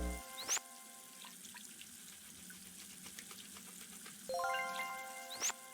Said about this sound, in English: let's turn on the water. Wash, wash, wash, wash, wash up all the pieces